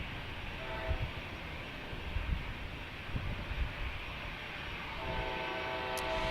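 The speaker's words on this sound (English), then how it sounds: "That's that horn you hear in the distance, the commuter rail line" A Coaster commuter rail train near San Diego sounds its horn far off, a faint sustained tone rising out of steady broad rumble and outdoor noise, strongest toward the end.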